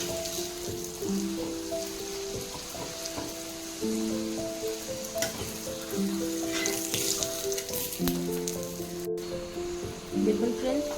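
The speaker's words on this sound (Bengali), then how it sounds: "আমি অল্প পরিমাণে তেল দিয়ে একদিকটা ভালো করে সেঁকে নিচ্ছি।" A paneer roll wrap frying in a little oil on a pan, giving a steady crackling sizzle throughout, with a held musical tone running underneath, close and even.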